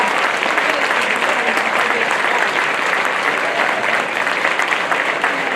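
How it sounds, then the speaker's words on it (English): Loud, sustained applause from a large audience, steady clapping filling the whole stretch without pause. "give him another huge round of applause"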